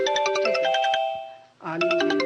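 A melodic electronic phone ringtone chimes in quick repeated notes, pauses briefly, then starts again, loud and close.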